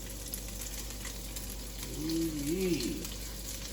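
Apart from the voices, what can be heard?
asparagus sautéing in a wok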